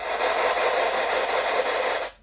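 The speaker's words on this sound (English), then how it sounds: "I'll just adjust this pot just until the hiss and crackle starts to go" Steady broadband radio static from a ghost box, a dense hiss with faint crackle, fairly loud and continuous before cutting off abruptly near the end.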